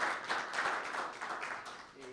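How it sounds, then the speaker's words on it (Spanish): A congregation at a church gathering applauds a doctor, a brief, soft and steady patter of clapping heard from some distance. "Un aplauso al doctor."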